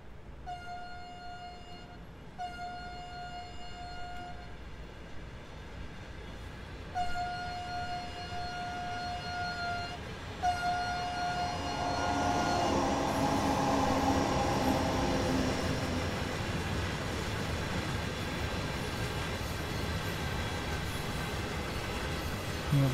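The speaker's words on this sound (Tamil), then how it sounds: "இப்போ மெயின் லைனில் தான் வருது ட்ரெயின்." A train runs along the main line, its loud rumble and steady tonal horn-like hum building as it passes close by, with no talk over it.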